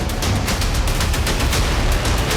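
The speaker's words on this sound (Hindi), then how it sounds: "तभी ताबड़तोड़ गोलियां चलने लगी" Rapid gunfire during the Pahalgam terror attack in the Kashmir valleys, caught near a zipline: a dense, loud, continuous crackle of shots with no break and no voices.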